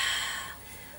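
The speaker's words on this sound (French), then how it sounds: "La respiration toujours lente, vous accélérez pas la respiration" A slow, steady Pilates breath, a soft airy exhale close to the microphone that fades over about a second, with no talking.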